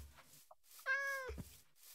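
A cat meows once in Minecraft, a clear tonal mew of under half a second, close and alone against near silence with faint soft knocks around it.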